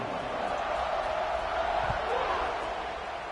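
A football stadium crowd roars as a steady, distant wash of noise before kickoff in a Clemson versus Notre Dame game, with a commentator talking over it.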